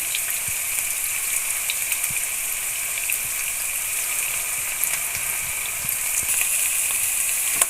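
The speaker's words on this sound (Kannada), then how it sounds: "ಎಲ್ಲ ಎಣ್ಣೆ ಚೆನ್ನಾಗಿ ಫ್ರೈ ಮಾಡ್ಕೊಳ್ಳೋಣ ಕರಿಬೇವು ಹಾಕ್ತಾ ಇದ್ದೀನಿ" Curry leaves fry in hot oil for a bitter gourd palya, giving a steady, close hiss of sizzling with small crackles and pops throughout, no voices.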